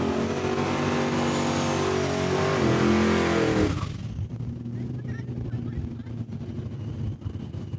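Drag race cars roar down the quarter mile at Saskatchewan International Raceway, a loud harmonic engine scream that drops away suddenly midway into a lower distant rumble and crowd-like background noise.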